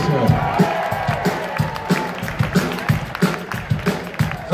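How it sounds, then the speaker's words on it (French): A live concert audience at Cinquantenaire applauds and cheers during a show, with a steady crowd roar and rhythmic clapping pulses running throughout and a voice faintly in the mix. "Applaudissez-vous vous-même"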